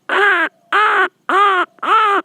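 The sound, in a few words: voice imitating crow cawing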